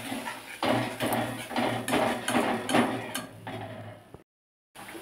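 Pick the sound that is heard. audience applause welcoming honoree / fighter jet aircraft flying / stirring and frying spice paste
stirring and frying spice paste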